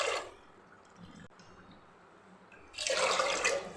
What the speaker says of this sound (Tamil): இப்போ இதுக்கு வந்து தண்ணி ஊற்றிக்கலாம்.